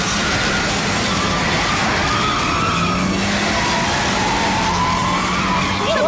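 A car skids out of control in a Hindi TV drama, a loud continuous rush of tyre and engine noise with a wavering squeal running through it for several seconds.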